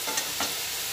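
Salted eggplant being stirred in a frying pan: a steady close sizzle with a couple of quick spatula scrapes near the start, no voices.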